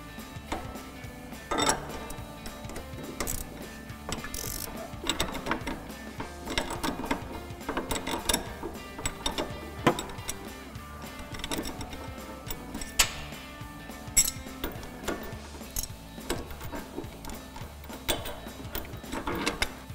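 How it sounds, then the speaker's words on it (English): An 18mm wrench and a ratchet with an 8mm socket working on an old sway bar link of a 2005-2014 Mustang, rapid repeated metallic ratchet clicks in bursts, close and fairly quiet, no speech. "we're gonna grab an 18mm wrench and a ratchet with an 8mm socket on it to hold the stud"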